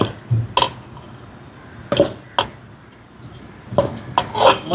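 Sesame seeds pounded in a mortar while making ellupa, a traditional sweet: about six dull, woody thuds land at irregular intervals, close and fairly loud, with quiet scraping between strikes.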